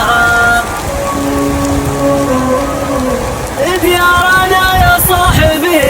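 Hail and heavy rain from a rare storm in the Syrian desert pound the ground in a dense, loud, continuous patter, while a voice sings or chants over it.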